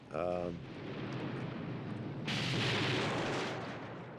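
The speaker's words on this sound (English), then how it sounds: "We were actually blowing these rooms and moving down this hallway." Pyrotechnic explosions blowing out rooms along a hallway on the film set of The Thing, a sustained loud roaring blast with a sharp burst partway through, heard over a dense rumble.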